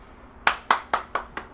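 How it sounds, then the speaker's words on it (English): Five sharp hand claps in quick, even succession, close and crisp, with nothing else around them. "Round of applause for me"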